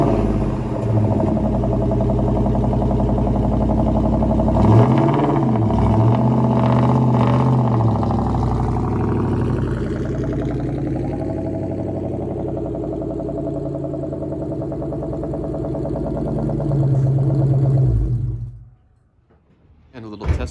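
A Ford Mustang Mach 1 engine runs steadily as the car is moved, a loud close idle with a few throttle blips and rising revs before cutting off near the end.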